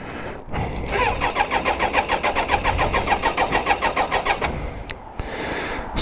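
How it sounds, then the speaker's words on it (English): A Suzuki GSXF600 motorcycle engine cranking with a rapid rhythmic churn for several seconds, then catching and running, close and fairly loud with no talk. "the spluttering stopped, and somehow or other the bike is now running again"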